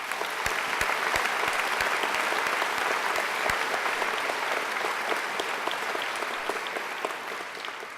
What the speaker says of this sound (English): Angela deserves another great round of applause.